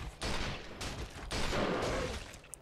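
Rapid handgun fire in the video game Resistance, several loud bursts of shots in quick succession with a short gap between them, no speech.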